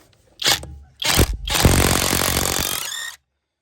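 A Stromo AWA25 budget impact wrench loosens a nut in short loud bursts, two brief pulses followed by a sustained rattling hammer run of about one and a half seconds, close and unaccompanied by talk.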